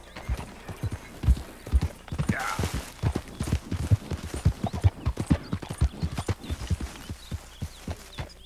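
Horse hooves clip-clop in a fast, irregular rhythm on hard ground in the Red Dead Redemption 2 video game, close and distinct against a quiet background.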